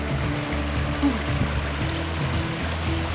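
A small river stream babbles over rocks in a provincial park, a steady close rush and gurgle of fresh water.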